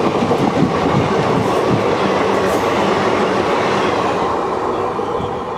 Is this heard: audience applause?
no